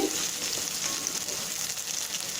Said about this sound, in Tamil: இப்போ பாருங்கள், வெங்காயம் நல்லா வதங்கிடுச்சு